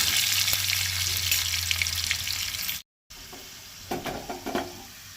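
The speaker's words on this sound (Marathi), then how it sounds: "त्यो आतां लायट ब्रावन जायसर तेलार भाजून घेवपाक जाय" Fifteen garlic cloves frying in hot oil for a Goan potato dish, a continuous close crackling sizzle broken by a brief silent gap, then resuming with a few scraping stirs.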